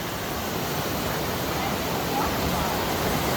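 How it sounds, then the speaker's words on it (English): Steady, broad roar of a waterfall along a hiking trail, close and constant throughout with no pauses or breaks in the rush of falling water. "That is an amazing waterfall."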